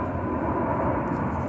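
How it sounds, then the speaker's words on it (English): A plane flies low overhead after leaving a nearby airport under an overcast sky, producing a loud, steady, rumbling drone throughout. "I got another plane going off"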